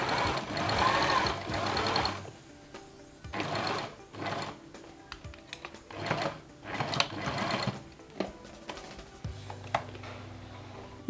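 Sewing machine topstitching a notched collar shirt, running in several loud close bursts of rapid needle chatter with short pauses between runs, then quieter clicking as the stitching stops.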